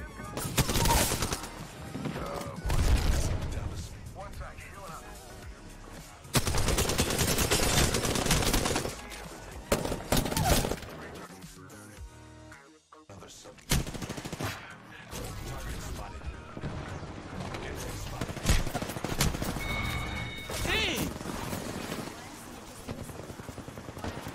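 Explosive airstrike and gunfire in the Xbox shooter Apex Legends, with dense bursts of rapid shots, heavy booms and crashes that come loud and near in long stretches, broken by a short lull.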